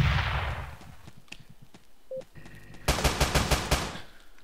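A can gun fires in the video game Teleglitch, a quick burst of sharp repeated shots near the end after a quieter stretch of game noise, with no talk.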